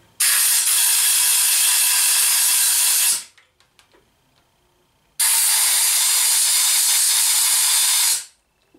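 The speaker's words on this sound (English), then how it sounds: "If you have access to a compressor, you can just blow it out." Compressed air from a shop compressor blasts out the Morse tapers of a wood lathe headstock and tailstock in two loud, steady hissing bursts of about three seconds each, with a brief quiet gap and faint clinks between them.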